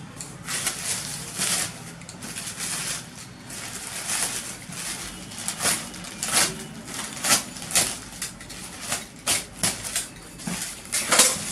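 Packaging for an SMK Twister Attack Pinlock full-face helmet is torn open, with repeated sharp crinkling, ripping and tapping bursts at close range over about eleven seconds, no voices.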